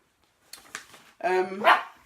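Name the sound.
dog barking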